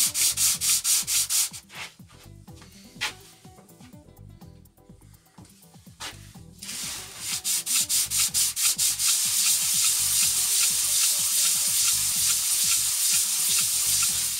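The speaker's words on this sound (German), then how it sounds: "nimmt das Brett und dann schleift es schön nach" A wooden board rubbed back and forth with sandpaper on a flat surface, the rasping strokes loud and close, first in quick rhythmic passes, then a short pause, then a steadier continuous scrubbing, with no voices.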